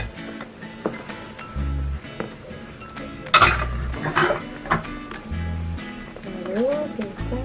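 Nile tilapia is dropped into a pot of boiling gulai soup with fern greens, landing with a soft splash among clinks of metal utensils and pot, while someone talks over the cooking.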